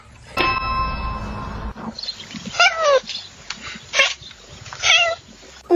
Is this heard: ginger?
no